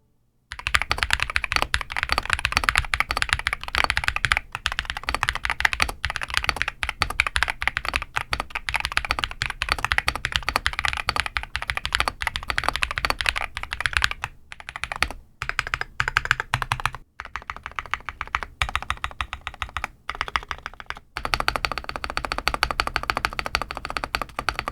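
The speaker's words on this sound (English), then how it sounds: "So let's give you guys a sound test so you can see for yourself," Steady, continuous typing on an Epomaker Shadow-X, a 70% mechanical gaming keyboard, with dense close-up key clacks running almost unbroken and only brief pauses near the end.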